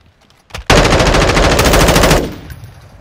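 Automatic gunfire in the video game Call of Duty DMZ bursts out loud and close as a continuous rapid rattle lasting about a second and a half, then trails off.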